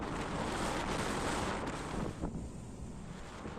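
Strong wind gusts across the open upper deck of a passenger ferry sailing from Labuan Bajo to Surabaya, a constant loud rushing buffet against the microphone mixed with sea wash, with no talk.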